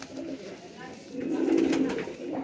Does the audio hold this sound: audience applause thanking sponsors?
no